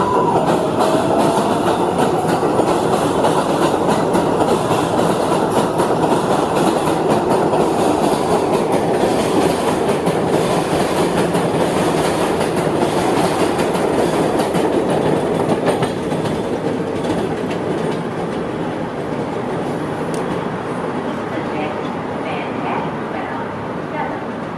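Subway train rumbling past on city tracks close by, a steady loud roar with clickety-clack wheel rhythm that eases slightly toward the end, with no talk over it.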